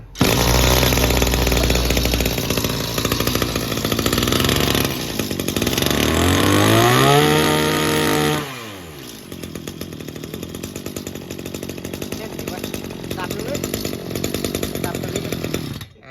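A small two-stroke Maruyama brush cutter engine roars loudly at high revs, drops briefly to a lower idle, then keeps buzzing steadily at a rougher, quieter pitch.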